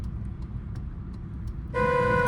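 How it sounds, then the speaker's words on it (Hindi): Low traffic rumble gives way to a loud, sustained car horn blast that starts abruptly and holds until the end. "देखो, इस बंदे ने दिया हॉर्न सिग्नल"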